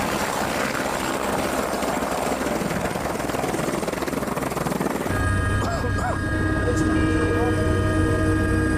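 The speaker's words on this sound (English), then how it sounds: "Then another helicopter gets through." A helicopter flying on Mount Everest thrums steadily, with a deep low drone that grows stronger and more constant in the second half, alongside a whining engine tone.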